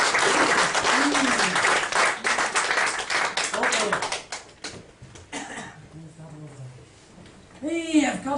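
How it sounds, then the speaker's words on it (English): Audience applause at a live comedy mind-reading show, a loud burst of clapping that fades after about four seconds, followed by a host talking and brief scattered claps. "round of applause to go back to the audience"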